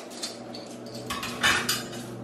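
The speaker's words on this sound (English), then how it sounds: "Look at the silverware. It's so much." A large pile of silverware in a new house clinks and rattles, with several bright metallic chinks close by, the loudest cluster landing in the middle of the short burst.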